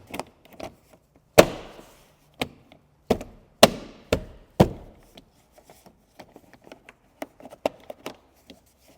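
Plastic trim pieces snapped back into place inside a salvage Infiniti QX80 during a seat belt tensioner repair: a series of sharp, close clicks and knocks, several loud ones early, then fainter scattered taps.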